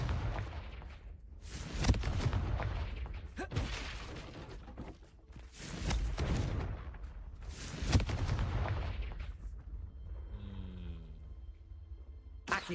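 Confringo blasting-spell explosions in the Hogwarts Legacy video game, a series of four heavy booming blasts spaced a couple of seconds apart, each with a rumbling tail, followed by a fainter electronic chime.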